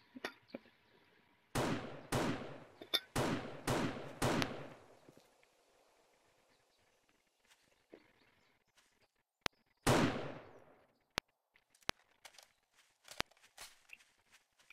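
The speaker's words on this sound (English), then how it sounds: "I'm just randomly shooting." Video game gunfire rings out in a quick run of five sharp shots, followed after a pause by one louder blast and a few scattered faint clicks and pops.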